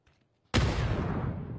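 Grenade blast and gunfire in a competitive shooter video game match, starting from near quiet with a sudden loud explosion burst that decays into a rough, sustained rumble.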